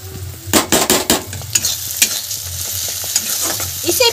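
Onion masala with Kashmiri chili powder fries in a pan for a shahi aloo gravy, loud close scraping strokes of a spatula stirring over a steady sizzle, busy at first then easing off; no voices.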